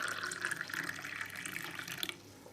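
Lukewarm water is poured into a cup holding paste for an immunity drink, making a soft, continuous trickling stream that fades slightly toward the end. It is quiet and heard on its own.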